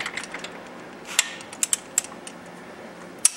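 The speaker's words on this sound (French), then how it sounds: "Le boulon du bas est maintenant bien serré" Ratcheting on a strut assembly bolt of a 2002 Dodge Neon, with a series of sharp metallic clicks and ticks, irregular and close, over a quiet background.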